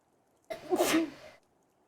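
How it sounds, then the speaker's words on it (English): A single sharp sneeze from a video-game character in Tales of Berseria bursts out of near silence at night, loud and close, trailing off after about a second with a quiet background. "Let me disturb the silence of the night with my sneeze."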